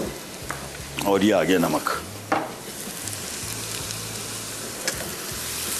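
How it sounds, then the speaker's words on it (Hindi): Mutton and onions frying hard in a pot on high heat, with a steady close sizzle and bursts of stirring clatter while a cook talks over the cooking. "सो इसको तेज़ आंच पे फ्राई करते जाएंगे जब तक ये फ्राई हो रहा है।"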